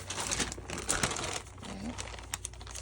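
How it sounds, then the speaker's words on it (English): Scissors or a blade cutting a window into a paper craft fairy house, giving close crinkling, snipping and rustling that keep going for a few seconds, with no voice over it. "We're going to cut out a window."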